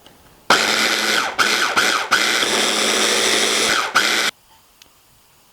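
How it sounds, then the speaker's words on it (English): Food processor grinding raw cauliflower florets into rice, a loud, steady whirring roar with several brief dips as it pulses, running for about four seconds before cutting off to near silence. "throw them into your food processor, and that'll give you your cauliflower rice. Now you'll need to grind it all up"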